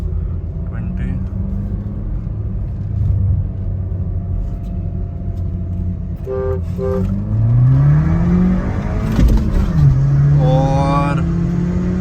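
A Skoda Laura vRS with a 1.8 TSI engine accelerates hard in a drag race. The engine note climbs in rising sweeps, and there is a shift into the next gear before it climbs again, heard from inside the car with people talking over it.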